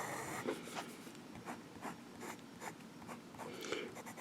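Monteverde Aldo Domani fountain pen nib scratching and gliding across paper in close, quiet strokes, a series of short scribbles with brief pauses, no one speaking.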